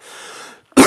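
A soft, breathy throat-clearing sound fades out, a brief silence follows, then a sharp, loud cough bursts in close by.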